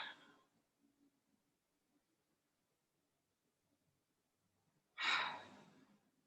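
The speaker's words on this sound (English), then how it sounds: "breathing out." A single slow, breathy exhale during a pranayama breathing exercise, close and soft, rising after a long quiet pause and fading out.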